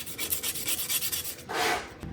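A bolo blade rubbed on a grinding stone: a steady, gritty rasp repeats in short strokes, then swells into a louder, brighter scrape near the end before cutting off.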